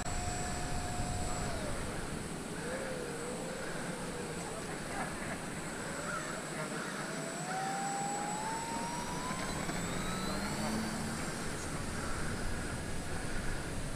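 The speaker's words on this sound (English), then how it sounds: "Here we go, maiden flight of the Dynam PT-17." A Dynam PT-17 model biplane's electric motor whines steadily as it takes off on its maiden flight, the pitch sliding up and down as the plane runs and climbs away, over constant outdoor noise.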